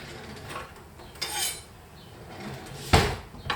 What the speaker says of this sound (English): So what I'm gonna do with the fish, I'm gonna slice it,